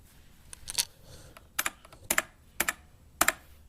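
Typing on a Unicomp EnduraPro buckling spring keyboard with a built-in Trackpoint, sharp clacky keystrokes arriving in small clusters of two or three with short gaps between, close and fairly quiet, no talking.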